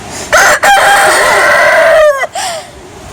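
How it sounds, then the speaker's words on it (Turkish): A rooster crows loudly and close up in a Turkish village, a long drawn-out call followed by a shorter second burst. "Ötmeyen horoz olmaz. Bir öt."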